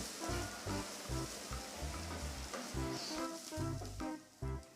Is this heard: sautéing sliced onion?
yes